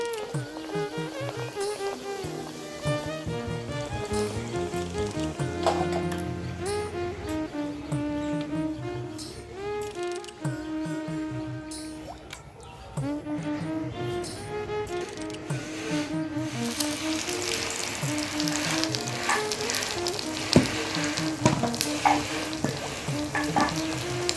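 Egg kochuri frying in hot oil gives a continuous sizzling crackle beneath louder melodic background music that runs throughout.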